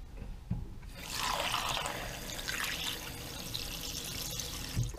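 Running tap water pours steadily over chicken drumsticks being rinsed, a close splashing rush that starts after a brief quiet moment and continues to the end.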